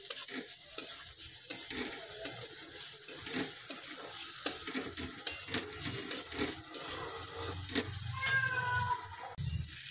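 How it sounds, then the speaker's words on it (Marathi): Green chilies sizzle and crackle in hot oil with irregular stirring clinks, fairly close and steady, no one speaking. "तेलात घातली तर ठसका लागतो, पण टेस्ट छान लागते"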